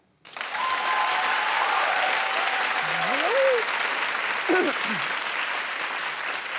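A studio audience breaks into loud, sustained applause that starts abruptly and holds at full strength, with a couple of brief voices heard over the clapping.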